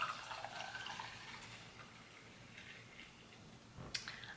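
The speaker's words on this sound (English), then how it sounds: "Pour in our hot water." Hot water poured over vanilla chai loose tea in an infuser, a soft close trickle that fades, followed by a light clink near the end.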